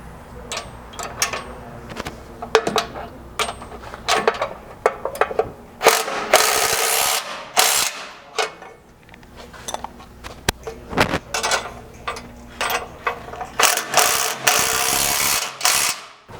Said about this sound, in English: you can tighten up those 2 through bolts that run up through this frame cross member